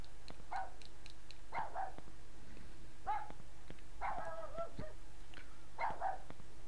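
Dog barking in the Rule of Rose video game, a series of short, fairly clear yips and barks spaced through the stretch over a low steady hum of game ambience, with no one talking.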